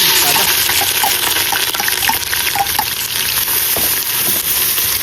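Pork kasim sizzles steadily in hot oil with garlic, ginger and onion for dinuguan with bottle gourd, a loud continuous crackle broken by a few clinks and scrapes of a utensil stirring the pan.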